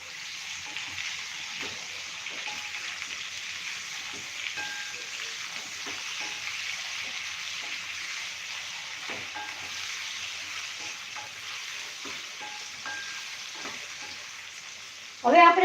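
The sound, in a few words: potatoes, capsicum and onion frying and being stirred in pan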